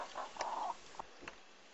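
A rooster lets out a few short, close clucks in quick succession, fairly faint, with no talking over them.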